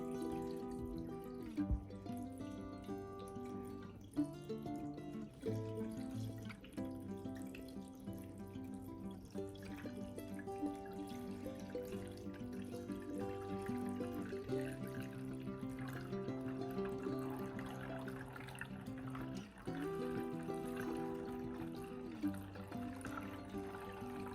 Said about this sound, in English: I'm putting the water in.